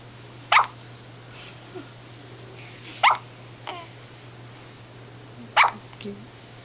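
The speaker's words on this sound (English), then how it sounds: "just got the hiccups right now." Three sharp, squeaky hiccups, each like a small puppy's yip, arrive about two and a half seconds apart, each followed by a faint catch of breath, over a quiet steady background hum.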